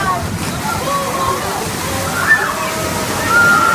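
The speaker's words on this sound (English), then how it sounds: "seems like that was more water than she was expecting" Water sloshing and splashing at a hands-on exhibit about barnacle life in a science center, a steady wash of water with a surge near the end, under light crowd chatter.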